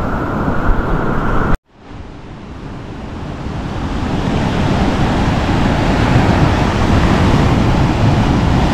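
Surf washing onto Pandan Beach on Nusa Penida, Bali, a steady broadband roar that cuts out for a moment early on and then swells back, close and loud with wind noise on the microphone.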